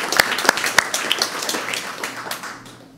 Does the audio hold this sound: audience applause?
yes